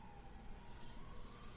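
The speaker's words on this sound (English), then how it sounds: "today is just the day for sirens and whatnot outside of my studio" A distant street siren drifts in through an open studio window, a faint, steady wailing tone that slowly rises over a low background hum.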